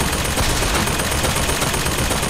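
Dense, continuous automatic gunfire in the video game BioShock Infinite, a loud unbroken rattle of shots with no voices over it.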